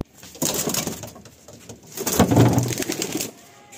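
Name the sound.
pigeons cooing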